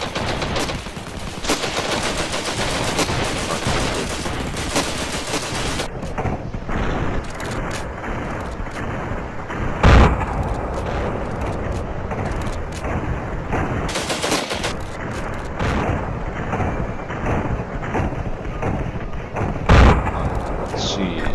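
Loud, dense gunfire in the Ravenfield video game's trench warfare battle, with a continuous barrage of shots and booms and two sharper, heavier blasts standing out; voices are faintly present in the mix.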